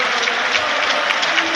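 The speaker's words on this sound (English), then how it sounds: "And this will be the biggest round of applause he's ever heard from Huddersfield Town fans." Huddersfield Town football fans in a stadium applaud a substitution during a Championship match against Hull City, a dense, loud, sustained roar of clapping from a large crowd, with faint commentary voices under it.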